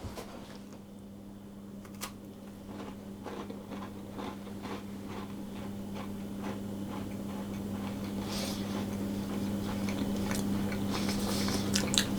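Someone chews a crunchy almond oatmeal cookie with a light lemon and cinnamon flavour close to the mic, a steady run of crisp bites and crunches over a low constant hum.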